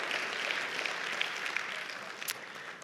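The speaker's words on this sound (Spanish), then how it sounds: "Dale un fuerte aplauso al Señor." Congregation applauding during a church sermon, a soft, steady, distant patter of many hands clapping filling the room, fairly faint and even throughout.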